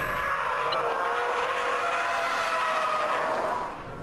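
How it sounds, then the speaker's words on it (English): Turbocharged engine of a 2010 Subaru Impreza WRX STI under hard acceleration, a steady, loud, rising whine and roar lasting several seconds before easing off at the end. "And all of a sudden, your turbo's kicking in, the torque is maximised"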